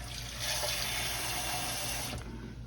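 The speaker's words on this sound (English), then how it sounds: "I'm gonna put a little bit more liquid in here" Liquid pouring into a cooking pot of smothered bone-in chuck steak, a steady rushing splash that runs for about two seconds and then stops abruptly, with a faint sizzle beneath.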